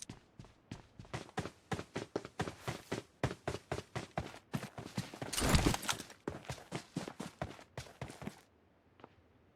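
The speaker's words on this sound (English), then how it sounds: "Listen to these footsteps." Quick, evenly spaced footsteps of an opponent in PUBG Mobile, crisp and close, pounding in a steady running rhythm for about eight seconds before stopping abruptly.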